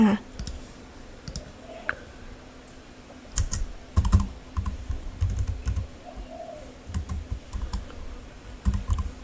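Keys clack on a computer keyboard in quick irregular bursts of clicks, close and fairly quiet, separated by short pauses over a faint room hum.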